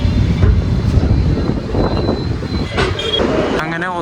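The Amaravati Express rumbles into Gadag Junction railway station, a continuous low train roar and rolling clatter with a brief high squeal near the end, heard close and loud throughout.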